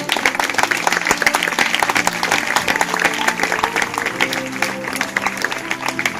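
A church congregation claps loudly and steadily during a sermon, a dense, sustained round of applause from a large crowd that fills the whole stretch.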